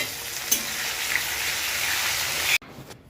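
Calotropis leaves frying in massage oil, a steady hissing sizzle with faint crackles that runs for about two and a half seconds before abruptly cutting to near quiet.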